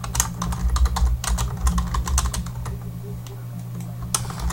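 Typing on a computer keyboard while adding text to a wiki document, a quick run of close, crisp key clicks in irregular bursts over a faint steady hum, slowing near the end.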